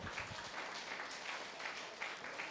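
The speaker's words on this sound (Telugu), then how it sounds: "గణేష్ గారి గట్టి క్లాప్స్ కొడదాం" Faint, distant audience applause for a flute player at a music meditation event, a continuous soft patter of many hands clapping with no voices over it.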